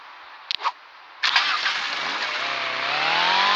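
A car engine cranks briefly, stalls, then catches on a second attempt and settles into a steady idle that rises slightly, heard close with no voices.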